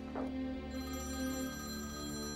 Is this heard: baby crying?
no